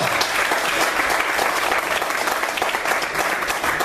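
A church congregation applauds during a sermon, producing a loud, continuous wash of clapping from many hands that holds steady throughout without any speech over it.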